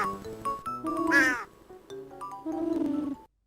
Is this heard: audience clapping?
no